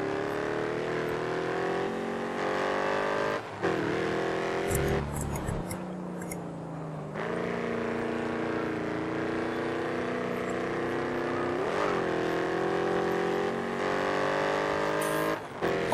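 Camaro race car engines roar in GRID Autosport, a loud, continuous whine rising and dropping through gear shifts and braking for corners, with excited talk over the racing.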